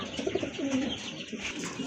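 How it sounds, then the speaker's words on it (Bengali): Pigeons coo in low, throaty murmurs close by, repeated over a steady background of other bird chatter. "দেখার মতো একটা পেয়ার আর অনেক বড় কবুতর"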